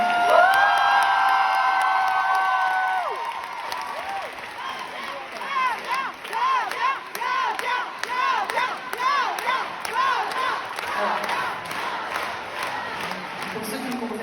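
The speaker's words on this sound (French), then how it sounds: "On va applaudir très très fort Flavien." Concert audience clapping and cheering with whoops, steady crowd noise under sustained sung or shouted tones early on, continuing with lively applause.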